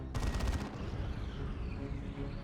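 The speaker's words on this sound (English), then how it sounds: "A plasma cannon shot." A plasma cannon shot in the Dawn of War 2 battle game, one loud, rapid crackling burst lasting about half a second, followed by a dense rumbling wash of combat noise.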